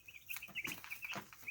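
Young chicks peeping rapidly in repeated high chirps with soft clucks underneath, faint and close, with no talking.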